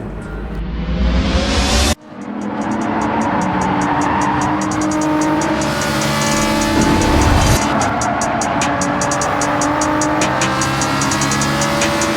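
Race cars in the Gran Turismo 7 racing game, a steady loud engine drone with shifting pitch and a sharp cut near the start, continuous and close with no talking.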